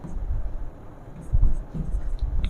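Marker or chalk writing on a board during a chemistry lecture on the mole concept, soft scratchy strokes in short bursts close by, with faint quiet speech.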